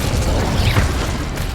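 Fire spell cast in Hogwarts Legacy, a loud, dense whooshing burst of flame with a low rumble and a brief rising swirl, sustained for about a second and a half.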